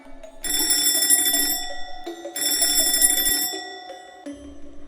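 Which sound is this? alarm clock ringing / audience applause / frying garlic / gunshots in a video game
alarm clock ringing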